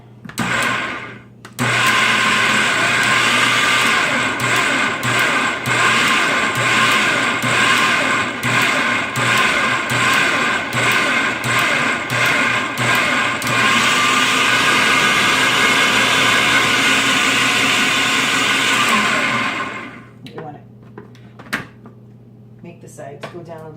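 An electric mixer whirs loudly and steadily through chocolate zucchini cake batter for about eighteen seconds, with brief knocks against the bowl, then cuts off and leaves a quiet kitchen.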